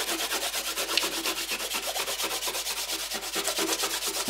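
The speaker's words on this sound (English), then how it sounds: "When the painting is dry, we just rub off the masking fluid." Dried masking fluid being rubbed off a watercolour painting of a snowy scene: a steady, close, rhythmic scratchy rubbing in quick repeated strokes, with no voices.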